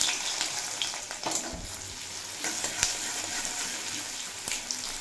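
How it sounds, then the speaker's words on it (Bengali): Chopped onion fries in oil tempered with black cumin seeds, hissing and crackling close by while a utensil stirs it with scattered scraping knocks. No one speaks. "এক মিনিট মতো ভেজে নেব পেঁয়াজ"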